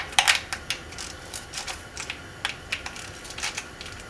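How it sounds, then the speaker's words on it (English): Light, irregular metallic clicks and ratcheting taps from snugging down the oil pan bolts on a Subaru EJ22 engine, working from the middle out, fairly faint with short pauses between bursts. "I'm going to snug down all the bolts, working from the middle out"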